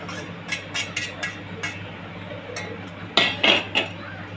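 Strawberry pieces dropped and spooned into a mixer grinder jar, a series of light clinks and taps in an uneven rhythm, a few sharper knocks near the end, close and moderately loud, no talking.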